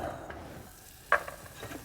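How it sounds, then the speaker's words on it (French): Butter melts with soft sizzling in a saucepan as a whisk lightly scrapes and stirs, one sharper clink partway through, no talking. "On fait fondre le beurre, mais qui ne brûle pas."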